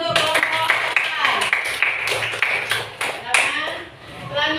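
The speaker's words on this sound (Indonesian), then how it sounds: "beri tepuk tangan untuk kelompok A" A classroom of students claps for a group, a steady run of hand claps at moderate loudness mixed with chatter and voices throughout.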